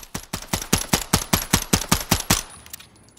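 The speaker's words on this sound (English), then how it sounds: "Just fire this as fast as we can." Shots from a Beretta M9 semi-automatic pistol in Call of Duty Modern Warfare III crack out in a quick, evenly spaced string of about twelve loud rounds, close and sharp, followed by a brief quiet tail.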